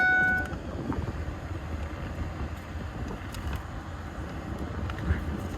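Blower motor in a Ford E-250/350 van running, a steady, even whooshing hum of air that holds constant for several seconds with no voices.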